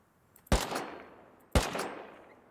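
Two loud, sharp gunshots in the video game Rust, spaced about a second apart, each with a long decaying echo tail, heard alone without talk.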